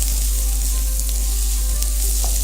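Garlic and ginger fry with browned onion in a pot, giving a loud, steady, close sizzle with faint stirring scrapes throughout and no talking.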